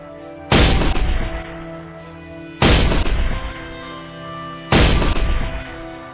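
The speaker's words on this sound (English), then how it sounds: "The Allies came up with a solution for this problem: anti-aircraft guns." Anti-aircraft guns firing three heavy booming shots spaced about two seconds apart, each a loud blast trailing off into a rumbling decay.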